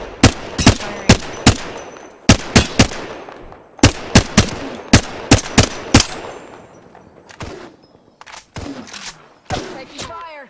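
Gunfire in the battle royale video game Apex Legends crackles in loud, close, rapid bursts grouped in clusters, then thins into sparser, fainter shots toward the end.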